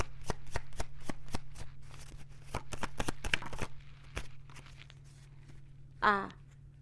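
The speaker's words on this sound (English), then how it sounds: "I'm going to pull a couple more cards and we're going to end" Tarot cards being shuffled, a rapid series of crisp riffling snaps that ends with a brief sliding flick as cards are pulled from the deck, close and clear with no talking.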